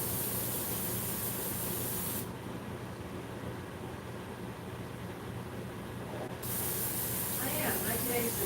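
Gloss hairspray sprays onto a model's hair in a steady hiss lasting a few seconds, set against constant background noise.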